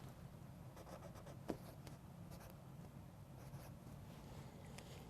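Marker scratching out corrections on a paper zeroing target at a shooting range, a few soft, brief strokes under a steady low background hum, with one sharper tap midway.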